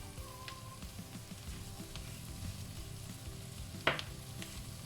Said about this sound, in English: Give it a good stir fry.